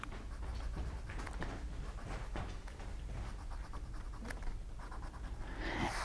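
Fence posts are drawn with heavy pressure for a silhouette sunset landscape, making a steady close scratching of the drawing tool on paper. The strokes run continuously at moderate level with no talk.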